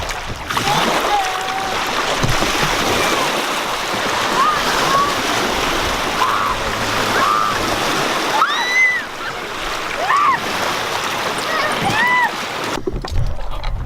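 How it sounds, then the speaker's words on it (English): Water sloshes and splashes steadily as small waves hit, with voices calling out in the middle and a louder splash near the end. "It was so calm, and then waves out of nowhere."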